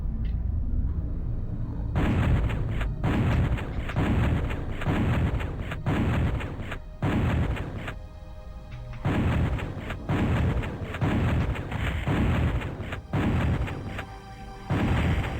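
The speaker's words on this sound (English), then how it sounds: "I struggle to think of a single shotgun in any first-person shooter more satisfying than the Doom 1 shotgun." Doom 1 shotgun on the Saturn port, firing in a steady run of heavy, booming blasts about every second, loud and close, with short pauses between some shots.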